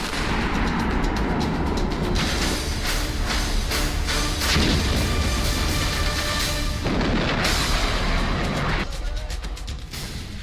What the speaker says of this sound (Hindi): पाकिस्तानी सेना ने मोर्टार दागे तो भारतीय फौज ने एंटी टैंक मिसाइल दागकर पाकिस्तान को उसकी औकात दिखा दी।